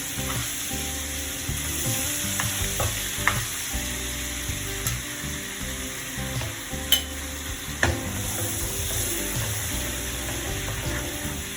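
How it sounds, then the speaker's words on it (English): Butter melting in hot cooking oil in a pan, giving a continuous crackling sizzle with scattered pops and a few utensil clinks, close and steady throughout, with no voices. "And once the oil is heated up, add in butter."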